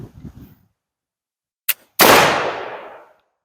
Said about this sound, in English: And there was a classic example of a hang fire.